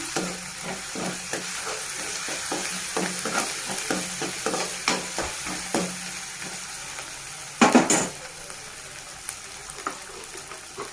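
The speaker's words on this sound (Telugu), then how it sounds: "ఇప్పుడు మనం వన్ టేబుల్ స్పూన్ అల్లం వెల్లుల్లి పేస్ట్ పచ్చివసన పోయినంత వరకు ఫ్రై చేసుకోవాలండి" Ginger garlic paste frying in a pan for Andhra-style chama gadda pulusu, a steady sizzle broken by repeated scraping stirs, with one louder clatter near the end.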